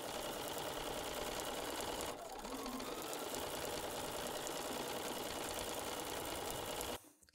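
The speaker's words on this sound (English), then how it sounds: "let's take that back to the sewing machine," A sewing machine runs steadily, stitching binding onto a quilt-as-you-go tote bag, a close, continuous whirring drone for about seven seconds that briefly dips near the two-second mark and stops abruptly at the end.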